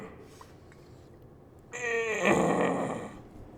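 A sudden loud, drawn-out creak with a raspy, groaning texture lasts about a second and a half after near silence.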